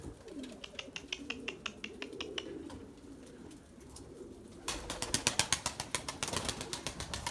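Purebred Erzurum white pigeons stir in a loft, with a steady train of sharp wing claps and flutters and soft cooing underneath, growing louder and denser partway through.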